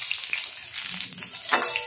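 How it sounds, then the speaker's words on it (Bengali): Torn pieces of dried red chilli fry in hot oil with a brief, close crackling sizzle, and one louder pop comes near the end. "লঙ্কাটাকে একটু ভেজে নেব প্রথমে।"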